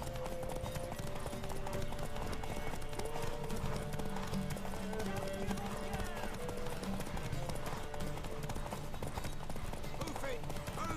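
Horse hooves clip-clop steadily in The Witcher 3 game, running continuously beneath overlapping voices and game music.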